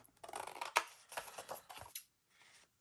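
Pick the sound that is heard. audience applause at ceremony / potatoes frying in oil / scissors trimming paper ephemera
scissors trimming paper ephemera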